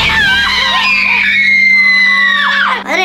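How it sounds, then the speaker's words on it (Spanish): Several people let out a loud, sustained high-pitched scream lasting close to three seconds, wavering and ending in a sharp breathy cry. "Madre mía, ¿cómo gritáis?"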